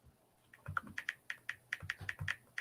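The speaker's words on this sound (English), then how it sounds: "I hear him typing." Fingers typing on a computer keyboard, heard faintly as an uneven run of quick, light key clicks that starts after a short quiet moment.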